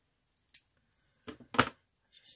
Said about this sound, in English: Oh, I wondered why I couldn't cut it very well. Wrong scissors.